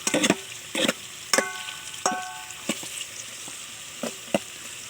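Shrimp and tofu fry in hot oil in a pan, crackling and sizzling close by with several sharp bursts and spatters at an uneven rhythm.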